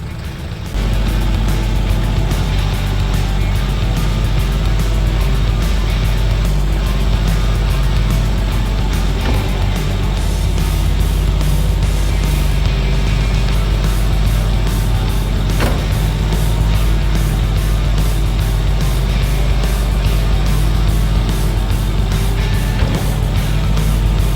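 A tractor engine strains steadily in deep Alaskan snow while pulling a stuck truck, a loud continuous low rumble with heavy bass that holds for the whole stretch, close by and without talk.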